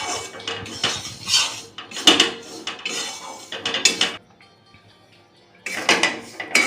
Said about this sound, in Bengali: এটাকে আমি একটু শুকনো খোলায় নেড়ে নেব গুঁড়োটা গরম হওয়া পর্যন্ত।